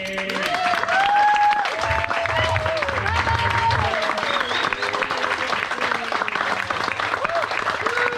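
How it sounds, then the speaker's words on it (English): A large commencement crowd applauds puppy raisers and sitters, dense steady clapping sustained for several seconds with some crowd voices and talk mixed in beneath. "so we can give you a big round of applause"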